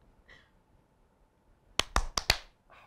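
A small group of friends tries to clap in unison but lands as four separate sharp claps in quick uneven succession, close and crisp, after faint murmuring voices in an otherwise quiet room.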